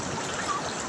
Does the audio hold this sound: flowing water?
yes